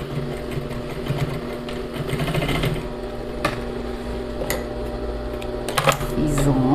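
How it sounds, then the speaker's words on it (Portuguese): An electric sewing machine stitches the side seam of a flared skirt, running in a steady, fast, close-up whir with small clicks and a short pause near the end. "Eu vou fazer a máquina, na máquina mesmo."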